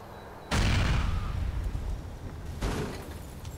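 A bomb goes off in GTA IV with a sudden loud broadband blast, its deep rumble slowly decaying, followed a couple of seconds later by a second, smaller burst.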